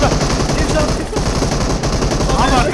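Rapid automatic gunfire from the mobile battle-royale game PUBG Mobile, loud and continuous bursts with dense overlapping shots throughout, heard alone without talk.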